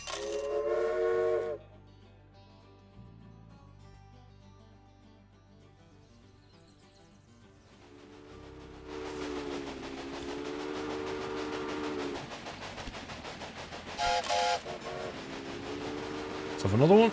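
In the Railway Empire video game, a train gives several separate wavering whistle blasts, one at the start and more later, over a faint rumble of the running train.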